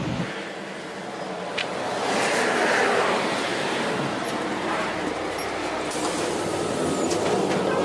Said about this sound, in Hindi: अभी जो है वो हम मेट्रो में हैं